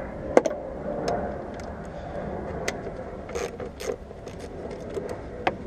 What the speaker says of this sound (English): You take off these four bolts, get this cover out the way.